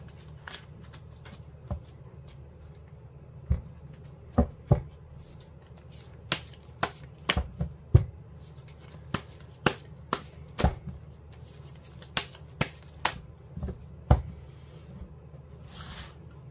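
Tarot cards are shuffled and drawn, with a run of crisp slapping snaps and flicks, irregular and close, over a quiet background hum, and no talk.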